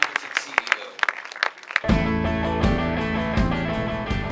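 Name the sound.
audience applause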